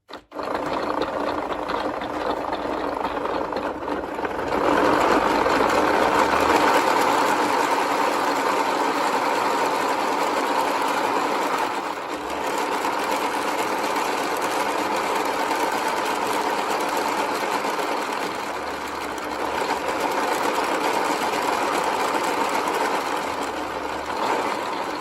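A handmade wooden model car engine runs steadily throughout, a fast, buzzy mechanical whir like a small motor, with a brief louder stretch near the start and a short dip partway through, no voices.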